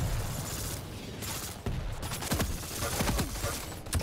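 Rapid bursts of super nail gun fire in Quake, a dense, continuous stream of shots filling the whole stretch with no talk over it.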